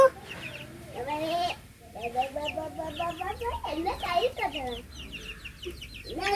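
Chickens cluck and squawk close by in a busy, continuous run of calls, with a person's voice mixed in among them.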